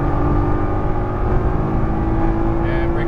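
A Nissan GT-R on a racetrack accelerates at full throttle, its engine a loud, steady, close drone with a rising rumble; an instructor's voice is faintly present.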